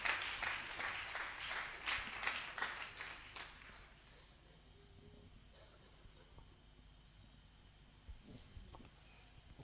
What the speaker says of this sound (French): Acclame le Saint-Esprit